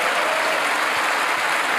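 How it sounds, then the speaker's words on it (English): A large indoor audience cheers and applauds at an evening event, a loud, dense, continuous wash of clapping with no gaps. "that seems to be the biggest cheer of the evening"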